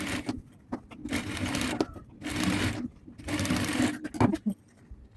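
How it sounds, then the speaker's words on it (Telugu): A sewing machine stitching fabric along the sides of a piece, running in three steady bursts of rapid whirring needle chatter separated by short stops, with faint handling noises in between. "మళ్ళీ ఇటువైపు అలా 4 వైపులు స్టిచ్ చేసుకోవాలి."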